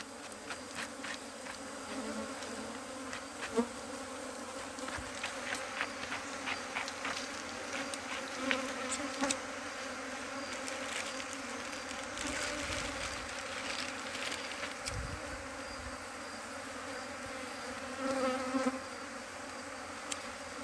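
Steady close swarm of bees buzzing at an open nest of ผึ้งโพงและผึ้งประปา (Thai wild honeybees), a dense continuous drone with occasional louder passes from individual bees, no talking.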